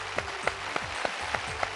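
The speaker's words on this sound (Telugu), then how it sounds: "క్లాప్స్." On a Telugu TV game show, slow, evenly spaced claps come about three times a second. They are soft and sparse, with no dense crowd roar.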